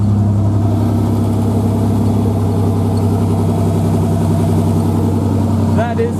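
Loud, steady idle of a 1995 Ford Ranger 4.0 V6 running through new headers, a throbbing low drone with rapid exhaust pulsing, close up and continuous, with brief squeaky noise near the end.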